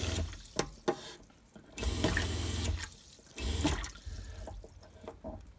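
Cold water runs from a tap fed by an electric pump in a camper van conversion, flowing in several bursts of a few seconds each with brief pauses between, close and moderately loud, with no one speaking.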